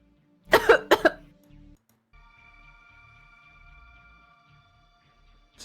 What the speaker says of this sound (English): I'm hearing my cough and echo.